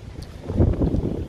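Gusty wind on a windy day rumbles low and close against the microphone, swelling midway and staying steady for a brief moment with no talk.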